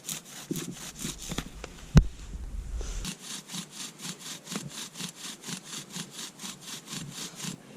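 Wooden drill rubbing in a notched board while making a friction fire with all-natural plant materials, a steady rhythmic scraping of roughly two strokes per second that breaks off briefly near the start, then resumes close and even.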